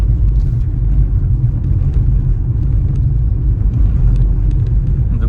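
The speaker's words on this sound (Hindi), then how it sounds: "थर्ड गियर पे भी ड्राइव कर रहे हैं और काफ़ी स्मूथ और पावरफुल कॉम्बो है।" Heard from inside a Mahindra XUV300 climbing a narrow mountain road in third gear, the engine and road noise make a steady, close low rumble throughout, without speech.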